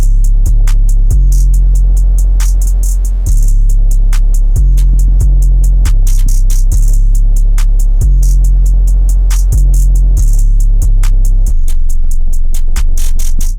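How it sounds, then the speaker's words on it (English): A loud drum beat programmed in FL Studio, with heavy booming bass hits and snares over fast, steady hi-hat ticks, repeats in a tight pattern that holds through to the end, with no voice. "Drums all together sound like this."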